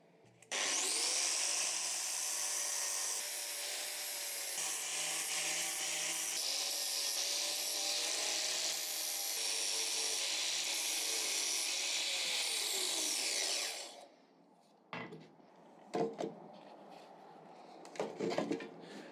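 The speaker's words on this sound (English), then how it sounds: "I'm just going to use an angle grinder, get it done nice and quickly." An angle grinder cleans up the end of a forged steel slot punch, giving a loud, steady grinding whine for about thirteen seconds before it cuts off, followed by a few scattered clanks and handling noises.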